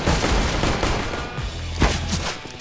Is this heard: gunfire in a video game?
yes